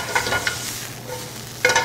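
Sauce bubbling and sizzling in a pan while being stirred, a steady close hiss with a couple of brief scraping swirls of the spoon, with no voices.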